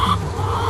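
Hens on a free-range egg farm near Perth cluck close by, a short burst of steady clucking and murmuring over low background noise, no voices.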